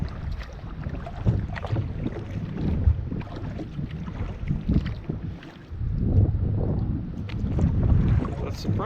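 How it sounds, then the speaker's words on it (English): Strong wind gusting over a lake on a grey, cold day, a rough low rumble buffeting the microphone, easing briefly then surging again. "how hard the wind is hitting"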